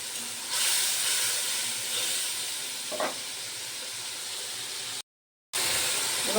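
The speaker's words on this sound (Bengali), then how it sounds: "এই মশলাটা ভালো করে কষিয়ে নেব।" Masala being fried in a pan with a little water, a constant hissing sizzle close up, with one brief spoon knock partway through and a short cut to silence near the end.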